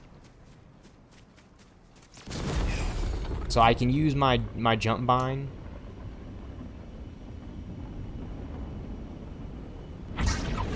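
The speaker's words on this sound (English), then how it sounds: "War Machine's hover jet." War Machine's hover jet in the video game Fortnite gives off a steady, rushing thrust noise that starts abruptly and runs continuously, with someone talking over it.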